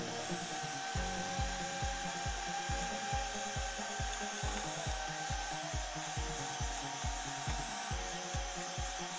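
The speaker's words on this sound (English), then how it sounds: "now we're going to go ahead and give this a real good mix" Cobbler batter stirred with a spatula in a bowl: a close, steady series of about twenty rhythmic scraping strokes, each with a soft low thud, running evenly over a constant background hum.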